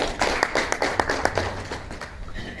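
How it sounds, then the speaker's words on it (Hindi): An audience at a business plan seminar claps, a scattered run of hand claps with uneven rhythm, moderately loud and close, fading slightly toward the end. "सर के लिए जोरदार ताली हो।"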